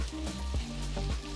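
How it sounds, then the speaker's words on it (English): Thin fish pieces sear in a hot pan with a steady close sizzle, broken by a few soft bumps and shifts of the pan. "And you want to hear that sizzle. That means your pan is hot enough."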